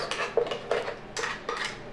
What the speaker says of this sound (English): I'm actually going to use a little spoon here and mix that up a little bit